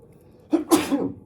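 A single sneeze in a quiet indoor room during a resume-building class, a sharp two-part burst that rises quickly and fades within about half a second.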